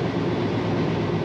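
A train rolls across the Padma Bridge in Bangladesh, heard as a steady dense rumble and rushing roar from inside the carriage, continuous and fairly loud with no talk.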